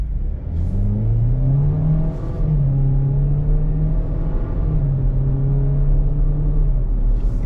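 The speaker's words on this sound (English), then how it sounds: "A little loud under load, but most small 4-cylinders are, but it gets the vehicle up to speed." A 2024 GMC Terrain AT4 with a small turbocharged four-cylinder engine accelerates hard, its drone rising and holding through several gear changes, loud and close from inside the cabin with no talking.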